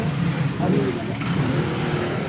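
Steady morning road traffic, with a continuous car and motor-vehicle rumble and passing engines filling the whole stretch, while a voice talks over it.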